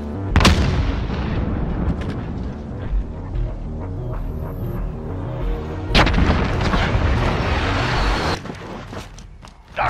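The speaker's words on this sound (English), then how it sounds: "Grenade out!" In the Warzone video game, heavy booming blasts sound across a busy battle. They come with a loud hit near the start, a strong explosion around six seconds and a rumbling, crackling din in between.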